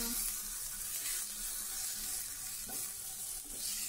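Spiced curry with ground ginger and garlic being sautéed in a pan, a continuous sizzle with occasional stirring scrapes, close and steady throughout.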